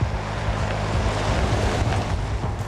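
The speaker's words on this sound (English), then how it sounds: "What we have here is a rainy, wet, windy day." Wind and rain on a wet, windy day outdoors, a steady loud broadband roar of gusts buffeting the microphone, continuous throughout with no voices.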